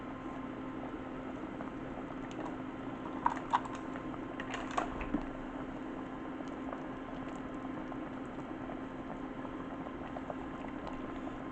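Sticky, wet vegan gluten-free pretzel bread dumpling dough drops into a bowl of simmering gravy, a few soft plops and wet knocks over a low, steady bubbling hum, no speech.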